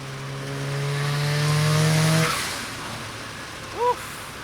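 A tuned turbocharged Mazda RX-7 FC engine revs hard with a steady droning pitch, then drops off, followed by a brief high squeak near the end.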